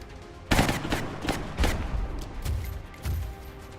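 Video game gunfire in XCOM: Enemy Unknown: about six sharp, loud shots and short bursts fire in an uneven rhythm over a low background rumble.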